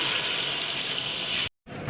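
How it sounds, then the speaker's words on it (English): Water pours steadily into a cooking pot of beef nihari with a broad, hissing gush that stops abruptly, then resumes briefly after a short silence. "Adding here water"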